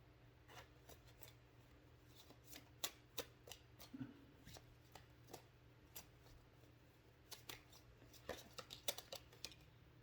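Rapid crisp riffling and flicking of playing cards, bursts repeating irregularly across the clip, close and moderately quiet with no speech.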